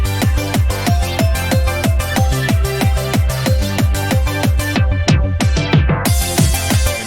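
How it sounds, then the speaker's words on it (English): A loud EDM scenecore intro beat, chopped and bounced with an effect, pounds out steady heavy kicks under dense synth layers, with a sudden filtered dropout near the end before the full beat slams back in. "I like chopped off part of the beat and then bounced it and then put that effect on there"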